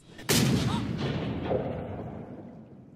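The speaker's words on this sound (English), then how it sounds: "10 years you carry that pistol and now you waste your shot." A single loud pistol shot from a pirate movie cracks sharply, then a long booming decay trails off over a few seconds.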